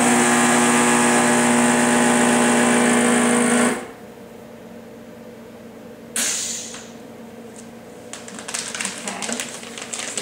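A vacuum sealer's steady motor hum runs loudly for a few seconds while sealing a bag, then cuts off abruptly, leaving quiet room noise with faint clicks and handling sounds.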